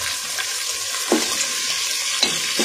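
Chicken with garlic ginger paste sizzles and fries in a pan for haleem, a steady loud crackle with a few soft stirring knocks, close and without talk.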